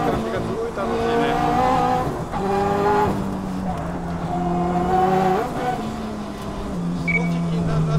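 A Toyota 86 accelerating hard on a mountain pass during a 2014 test, its engine note climbing through several gear shifts, loud and close, with talk underneath.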